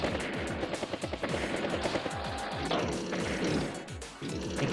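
Rapid unit-attack gunfire from an Advance Wars by Web battle, a dense clatter of repeated shots with crashing impacts running steadily throughout, loud and unbroken with no talking.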